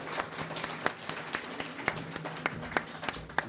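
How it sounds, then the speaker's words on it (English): Audience applause at a fan convention, moderate clapping from a crowd in a hall with a few sharper individual claps standing out, fairly faint and steady. "Give him a round of applause."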